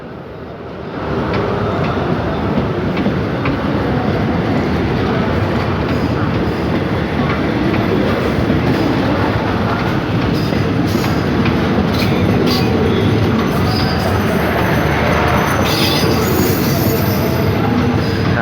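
A southern-line train rolls past close by, a steady loud rumble of wheels on track with faint squeals and clatter throughout, no talking.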